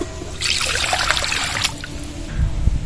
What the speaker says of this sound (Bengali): কড়াইতে আবারও জল দিয়ে দেবো